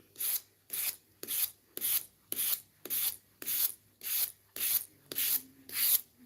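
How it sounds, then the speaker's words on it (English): Wood being hand sanded to clear away burn marks, a steady series of about a dozen rhythmic rasping strokes, close and fairly loud, with no talking. "So we're gonna sand it all and get the burns out by hand sanding it."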